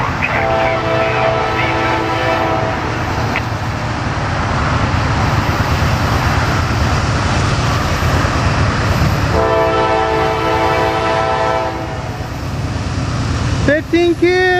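A Norfolk Southern northbound mixed freight train passes a road crossing in Columbus, Ohio, sounding loud multi-tone horn blasts in two long bursts over steady rolling rumble, with another horn note near the end.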